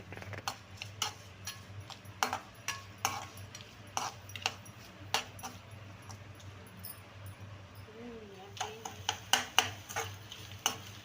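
Onion and tomatoes are sautéed in a pan for a drumstick and brinjal curry, faint sizzling under repeated light scrapes and taps of a spoon against the pan, irregular and close.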